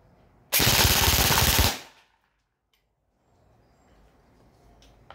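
A single burst of rapid full-auto fire from a Rossi Neptune 9 Marsoc airsoft gun shooting 0.20 g BBs, lasting about a second, loud and close, followed by near silence and faint background noise.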